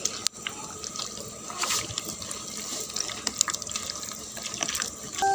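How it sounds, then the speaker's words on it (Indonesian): Water is poured little by little into pempek fish dough, a close continuous splashing trickle and gush of liquid that runs steadily throughout with some soft handling noises. "Itu sedikit demi sedikit kita masukkan airnya."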